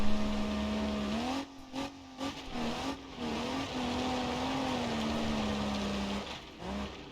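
A car drives a dirt track in BeamNG.Drive, its engine holding a close, steady drone that dips and rises in pitch as the throttle changes, with brief breaks in the engine note.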